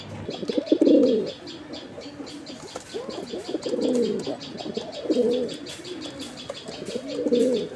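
Desi raj golla pigeons coo repeatedly in soft, rolling phrases at close range, with chirping small birds and a brief flutter of wings in the background.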